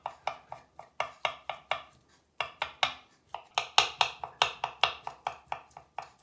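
A knife chops washed salad ingredients on a cutting board, a steady series of crisp, close taps in quick rhythm with one brief pause partway through.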